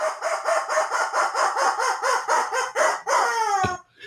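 A squeezed rubber chicken honks in a quick, rhythmic series of short squawks, then lets out one longer, drawn-out wheeze before stopping, loud and close with no voices.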